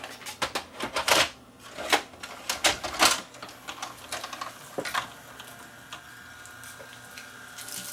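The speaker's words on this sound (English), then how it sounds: "I guess we'll try the machine again. See whether this tape will load." A videotape machine whirs and clicks as it tries to load a tape, with a rapid burst of mechanical clatter and clunks at first, then quieter ticks over a faint steady hum.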